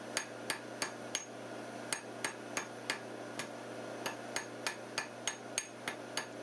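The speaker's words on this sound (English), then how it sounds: "Now I'm twisting as I hammer to round up the cross-section." Sharp metallic hammer blows ring out on an anvil at a steady rhythm, roughly two strikes per second, close and clear with no talking, as induction-heated metal is tapered and twisted into a hand-forged hairpin.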